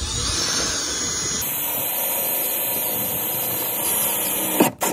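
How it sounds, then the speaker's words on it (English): A steady high-pitched power drill whines continuously for several seconds drilling straight through on a Sprinter van during a 35-inch tire install, ending with a brief clatter. "Drill one hole here, straight through"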